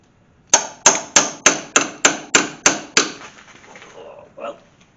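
A hammer strikes a strut rod bushing on an AMC Gremlin in nine sharp, evenly spaced metallic blows, loud and close with ringing decay. A softer knock follows after a short pause.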